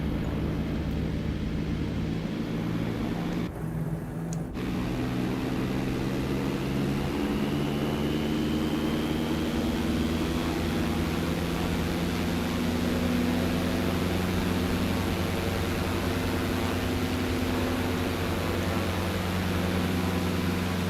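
Airplane engine in a flight simulator game, a steady loud droning roar that holds throughout with a brief dip early on, no talking over it.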